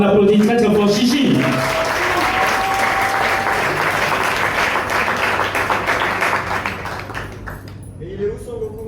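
Loud audience applause and cheering for a slam poet at a café slam night, sustained dense clapping filling the room and slowly thinning toward the end, with a few voices calling out over it.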